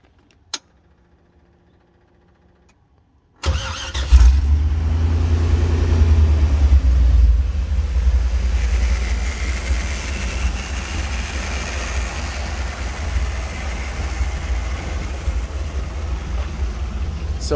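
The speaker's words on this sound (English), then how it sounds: "let's give it a crank over and give her a listen" A Toyota FJ40 with a V8 tuned for off-road use and an opened exhaust cutout cranks briefly, catches and settles into a loud, steady, deep rumbling idle, close by, after a few seconds of near silence.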